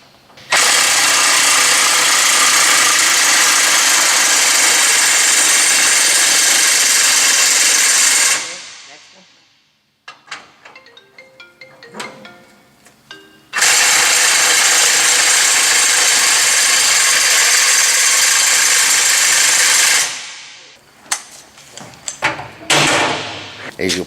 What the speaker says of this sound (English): get an 1 5/8" socket, battery or air impact, loosen the tensioning bolts